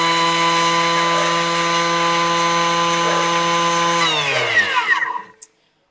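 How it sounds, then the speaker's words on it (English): Thermomix blending granulated sugar at speed 10, a steady loud whirring drone that holds for about four seconds, then winds down and stops. No talk. "We're going to mill this down 5 second speed 10."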